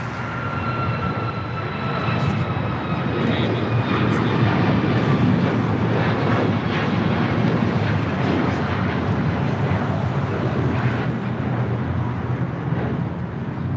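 A United Airlines Boeing 737 MAX 8 takes off at LAX, bound for Cleveland: a steady, broad jet roar holds loud throughout, with a faint whining tone riding on top and light wind buffeting.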